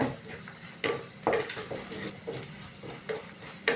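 A spoon scrapes and knocks in a pan as masala is stirred into a Kerala prawn and mango curry, with a series of sharp metallic clinks and scrapes at an irregular pace over a faint sizzle, close by.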